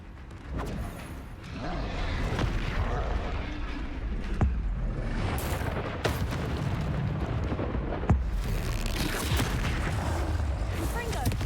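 Repeated spell explosions in a fantasy video game dungeon rumble and crash through a dense, loud battle din, with sharp bursts standing out and a voice shouting among the noise.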